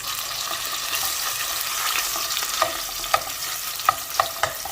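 Cauliflower fries in a pan, holding an even crackling sizzle while sharp clicks and knocks of stirring pop up in the second half.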